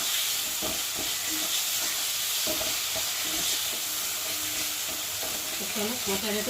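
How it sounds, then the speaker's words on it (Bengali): Spice paste and tomato sautéing in oil, a continuous loud sizzle and hiss with occasional stirring clinks and scrapes of the utensil. "দিয়ে মশলাটা ভালো করে কষিয়ে নেবো নুন করেছি তো টমেটোটা তাড়াতাড়ি গলে যাবে"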